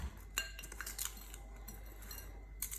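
Salted cucumber slices tossed in a bowl, giving scattered light clinks and scrapes of a utensil against the dish, quiet and close with no talking.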